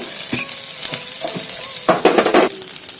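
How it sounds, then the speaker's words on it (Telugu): Coconut pieces and green chillies fried in oil in a pan, a light sizzle with intermittent stirring clatters and a cluster of louder scraping strokes near the end. "చూడండి, కొబ్బరి ముక్కలు వేగాయండి కొంచెం"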